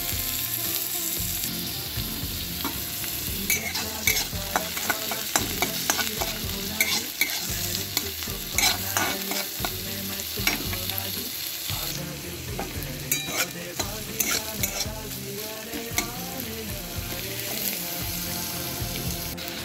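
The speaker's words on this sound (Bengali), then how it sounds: "তারপর কড়াইতে তেল দিয়ে শুকনো লঙ্কা ফোড়ন দিয়ে পেঁয়াজ ফোড়ন দিয়ে ভালো করে নাড়াচাড়া করতে হবে" Sliced onion and dried red chili frying in hot oil in an iron kadai, village-style Bengali cooking, a steady sizzle broken by repeated scraping and clinking of a spatula stirring against the pan, with no talking.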